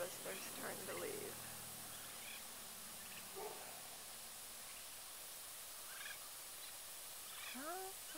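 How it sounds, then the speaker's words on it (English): A group of young adult wild turkeys in a backyard with sprinklers make faint, scattered calls and short rising chirps over steady hiss, with a few louder bursts near the start and end. "Got lots of young adult turkeys."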